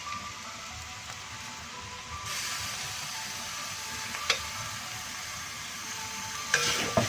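Garlic for a chicken curry fries in a hot pan with a constant hissing sizzle that swells partway through, broken by a few brief scrapes and knocks of a stirring spoon.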